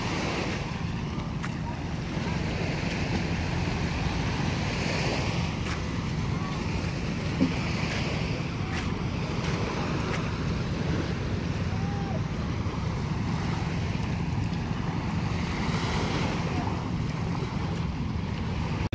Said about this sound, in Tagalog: Kalmada ang dagat.